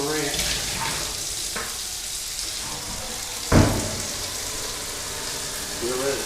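Tap water runs steadily into a container being filled to make sugar water for bees, a continuous moderate rush with a brief louder splash partway through.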